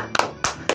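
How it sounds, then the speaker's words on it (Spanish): Three separate claps, sharp and close, spaced unevenly within a moment on a Mexican radio comedy show, with quiet room tone between them. "Muchas gracias, hermanos, por sus aplausos"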